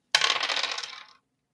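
Two dice rattling and tumbling across a tabletop during a Monster of the Week roleplaying game, a single close, bright clatter lasting about a second and fading quickly, with no talk over it.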